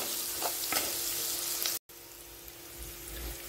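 Potato filling for cheese vada pav sizzles in hot tempering oil seasoned with salt and sugar, a loud continuous frying hiss with stirring scrapes and one brief dropout midway.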